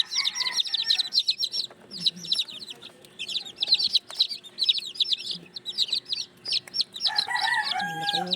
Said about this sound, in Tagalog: mga sisiw na bagong labas sa incubator